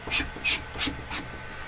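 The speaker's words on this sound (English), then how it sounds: "So what I do to the build plate is I always scrape it clean from the previous print." A build plate on an AnkerMake M5 3D printer is scraped clean of a previous print in four short, close rasping strokes with brief pauses between them.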